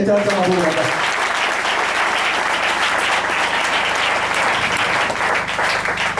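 Congregation at a church service breaks into loud sustained applause and cheering, many hands clapping densely right after a brief spoken line at the start.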